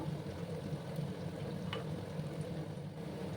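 Sliced onions fry in a pan for a cabbage and potato dum curry, giving a steady, close crackling sizzle with a brief stir scrape midway and no talking.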